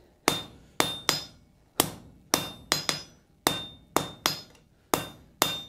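Hammer blows land on hot forge-welded steel being bent back on itself, about a dozen sharp ringing strikes close up, some in quick pairs, each decaying before the next.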